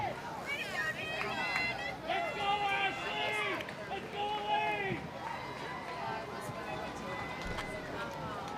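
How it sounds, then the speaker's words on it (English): Crowd noise of cheering and shouting spectators at a Warrior Games cycling race as riders are brought across the finish line, a steady mid-level din with overlapping voices throughout. "you can hear the crowd getting behind all the riders out here today, bringing them across the line"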